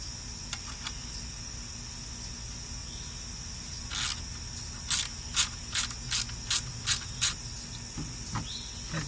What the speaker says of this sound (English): And tighten up the nut.